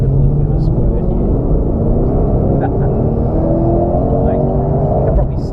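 A Holden HSV GTS engine revs up under acceleration from inside the car, a steady loud rumble with rising tone across a few seconds.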